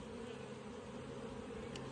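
A continuous, even buzz from a mass of honey bees in an opened hive, close and steady with a tonal hum and no talking.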